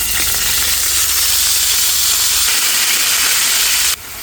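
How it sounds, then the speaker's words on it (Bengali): Garlic, ginger and cumin masala fries in a kadai for a wedding-style chicken roast, producing a loud, dense, unbroken hiss of sizzling oil close by that drops slightly in level at the end, with no talk. "এটার ভিতরে হচ্ছে রসুন, আদা আর জিরে, এটা দিয়ে মশলাটা কষাই নিই"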